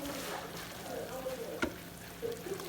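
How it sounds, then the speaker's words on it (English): Soft scraping and light sizzling as spaghetti is stirred with a metal spoon in a Ninja Foodi Deluxe, faint and close, with one sharp metallic clink partway through. "So we're just going to stir everything up."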